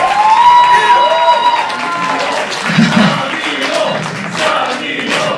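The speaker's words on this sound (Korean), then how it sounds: "각자 감사하는 마음으로 서로에게 박수 치죠" Audience at a live metal show in Busan claps and cheers together, a dense burst of applause with shouts mixed in, loud and close, while someone speaks over the crowd at times.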